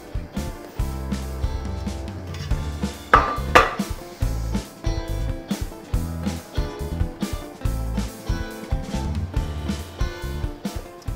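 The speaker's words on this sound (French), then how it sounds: "on met aussi la crème fraîche, allons-y, et on mélange, on met les champignons," Cream and mushrooms stirred in a pan for a Normandy-style veal escalope dish, with steady utensil scraping and clinking against the pan over a continuous cooking background, one louder clatter partway through.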